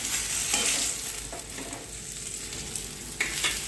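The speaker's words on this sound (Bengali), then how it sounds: "এরপর আমি আলু আর কুমড়োটা ভেজে নেব" Potato and pumpkin frying in a pan, with a steady broadband sizzle under a few soft scraping stirs, close and moderately loud, with no talking.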